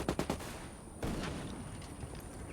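Gunfire in the PS4 shooter Ghost War as a player shoots through a wall: a quick cluster of sharp shots at the start, then a single louder crack, all fairly faint against a steady background hum.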